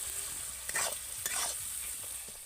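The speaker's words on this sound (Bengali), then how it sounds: "মশলাটাকে আমি খুব ভালো করে কষিয়ে নিয়েছি" Spice masala sautés in oil for an okra curry, a low, even sizzle broken by two brief scraping stirs of a spoon in the pan; no one talks.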